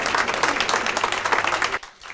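Audience at a start-up pitch event giving a short burst of brisk clapping that cuts off abruptly near the end, leaving quiet.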